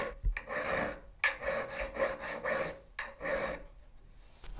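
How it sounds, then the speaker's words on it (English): Coarse filing on a metal letter punch in a type foundry: a series of close, rough rasping strokes in a steady back-and-forth rhythm, separated by short pauses. "I've just done a lot of rough filing around the outside."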